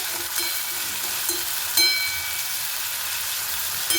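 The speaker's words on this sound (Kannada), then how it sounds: "ಮೆಂತ್ಯ ಸೊಪ್ಪು ಹಾಕ್ಕೊಂಡು ಸ್ವಲ್ಪ ಎಣ್ಣೆಯಲ್ಲಿ ಫ್ರೈ ಮಾಡಿಬಿಟ್ಟು" Fenugreek leaves frying in a little oil after onions, a steady soft sizzle throughout with a brief louder hiss near the middle, no talk.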